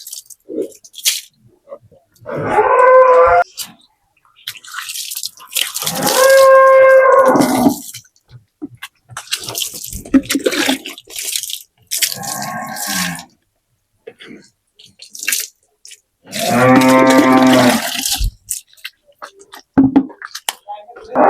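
A cow on a farm moos loudly several times, long drawn-out calls separated by quiet pauses and softer chewing or shuffling noises nearby, as it is being washed.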